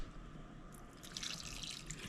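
Water pours and trickles into a pot of okra seasoned with Goya and Creole seasoning, a soft continuous splashing with a few drips that grows brighter partway through.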